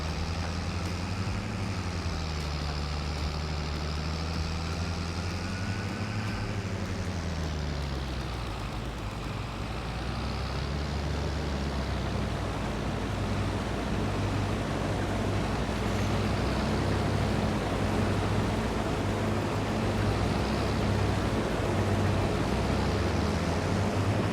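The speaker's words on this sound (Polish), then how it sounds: "ciągnik nie daje rady, pod górkę" A tractor engine labors uphill in Farming Simulator 22, a continuous low, heavy drone that rises and dips in pitch as it strains, loud and unbroken throughout.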